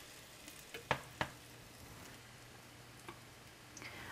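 Spoonfuls of zucchini fritter batter land in a hot oiled pan, giving two sharp close splatting hits followed by a faint, steady sizzle with a few small pops.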